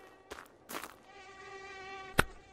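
A single mosquito in Finnish Cottage Simulator whines close and steady, its thin buzz holding throughout, with a couple of soft thumps early on and a sharp slap near the end.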